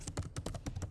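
Fingers type a password on a computer keyboard in a quick, steady run of about a dozen light, close key clicks, quiet and alone.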